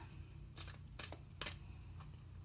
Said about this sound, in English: I do always shuffle these cards prior and meditate on the sign I'm doing.